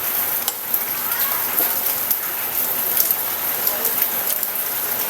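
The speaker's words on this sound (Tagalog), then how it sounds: "Dire-diretso ang ulan." Steady heavy rain pours down, a dense hiss with scattered drops tapping close by on a hard surface.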